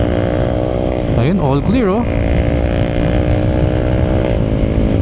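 Honda ADV scooter engine droning steadily at speed, a loud continuous hum with a rising pitch sweep partway through, while someone speaks over it.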